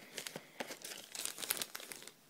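Thin foil wrapper from a beauty subscription box handled and crinkled up close, with rapid irregular crackles and rustles running through the whole stretch, no voices over it.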